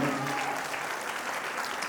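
An audience at an awards function breaks into steady, dense applause that holds evenly for the whole moment, with the tail of a voice fading at the very start.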